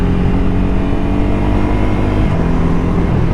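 A next-generation Ducati Scrambler Nightshift motorcycle with a quick shifter accelerating hard, a loud, close, continuous engine drone with a brief dip around a gear change.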